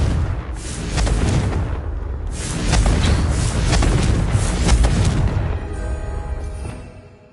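A Confringo spell explosion in Hogwarts Legacy, booming fiery blasts in two long rumbling waves that swell loud and close before fading into a lingering crackle, with no voices.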